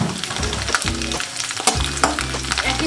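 Garlic fries in hot oil in a pan, sizzling steadily close up while a utensil stirs and scrapes through it in irregular bursts.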